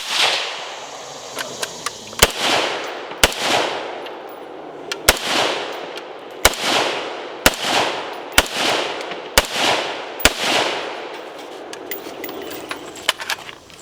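Sharp, loud gunshots from a 51Fifty rifle at an outdoor range crack out about a dozen times at irregular intervals, each followed by a brief echo, with faint background noise between shots.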